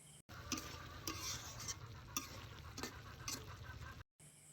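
Fish and eggplant curry with potato stirred in a pan, a low sizzle under repeated scraping spoon strokes at an uneven rhythm, fairly faint, no talking.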